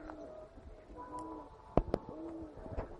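Pigeons at a dovecote give soft, low cooing calls over a faint outdoor background, with a couple of sharp clicks or flutters in the middle.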